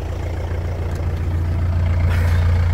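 A 2004 Isuzu Panther LS diesel engine idles steadily at the exhaust, a loud, even low rumble close by that holds continuously with no voices.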